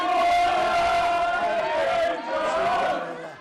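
Jade Jones's relatives cheer and shout loudly together in a hotel in Flint, North Wales, at around 2:30 a.m. as she wins taekwondo gold, with a sustained crowd roar close by.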